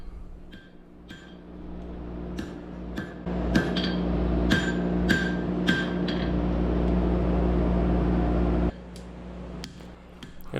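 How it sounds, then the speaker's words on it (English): A hammer forges the tapered tang of a 52100 high carbon steel skinning knife, ringing in a string of sharp metallic strikes of uneven spacing over a steady hum of shop machinery. "So we're forging the tang down here, tapered tang a little bit, and just shaping that"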